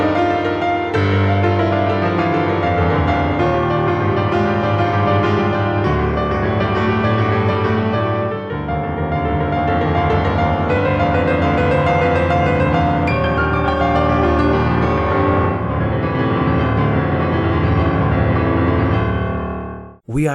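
A loud, dense fortissimo passage from a piano etude plays continuously at full volume, with rich sustained chords and fast running notes, ending abruptly.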